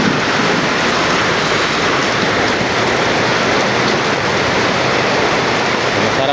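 Heavy rain pours in a loud, continuous wash of noise during a thunderstorm, dense and unbroken throughout with no talk.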